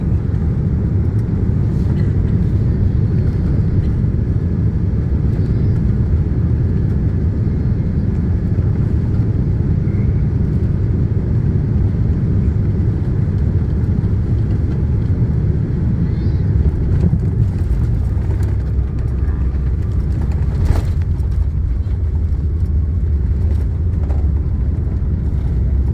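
Steady, loud low rumble of an airliner cabin during a landing approach, a continuous roar holding throughout with a brief thump near the end and no talking.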